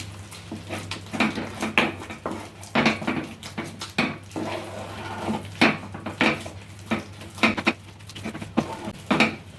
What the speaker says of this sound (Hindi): इसे हमें अच्छे से प्रेस करते हुए मिक्स कर लेना है।